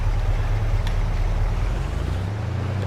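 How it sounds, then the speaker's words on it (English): A tractor engine idles in Farming Simulator 22, a loud, steady low rumble with a constant hum that drops slightly in pitch near the end, no voices. "Engine sounds just awesome."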